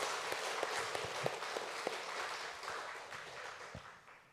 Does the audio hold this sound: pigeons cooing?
no